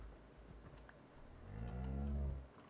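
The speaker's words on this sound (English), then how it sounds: "That sounds like a baby evil cow." An evil cow in modded Minecraft gives a single deep, drawn-out moo that swells and fades over about a second, alone against faint background game noise.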